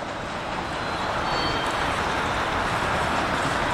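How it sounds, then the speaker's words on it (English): Train backing slowly into a CPKC rail yard during switching moves, a steady broadband rumble and rolling noise heard from nearby, constant in level without clear wheel clicks. "this train is going backwards again"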